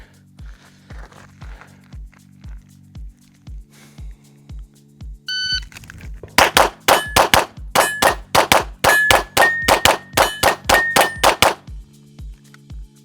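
Rapid pistol shots ring off steel plate targets in a fast string of bright metallic clangs, following a run of lower rhythmic thumps, loud and close with no talk.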